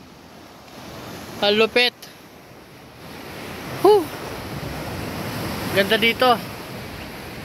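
Steady roar of surf and wind by the Twin Cave coast runs throughout, with short bursts of excited talk breaking in over the wash of the waves.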